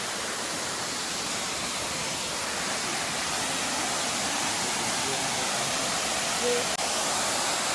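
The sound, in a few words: Adelphi waterfall, Grenada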